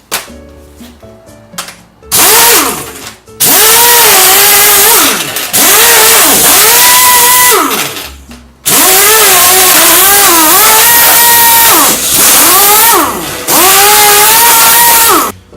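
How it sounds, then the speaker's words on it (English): An impact wrench removing small screws from a laptop's hinges in a garage workshop, firing in several loud whirring bursts that spin up and wind down with short pauses between them, no talking. "we're going to use a typical garage tool, the impact wrench, and we're just going to remove these screws right here"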